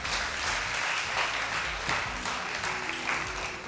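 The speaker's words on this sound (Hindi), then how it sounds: "तालियां।" A studio audience at a Ramadan television quiz show claps continuously and evenly in a dense wash of applause, with music or voices faintly beneath.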